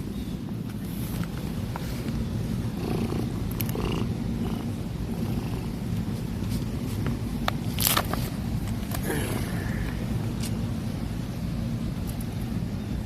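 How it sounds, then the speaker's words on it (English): A friendly cat purrs steadily while being petted, a soft continuous rumble heard up close. A few faint clicks and rustles come through, and there is no talk. "Y'all hear the purr?"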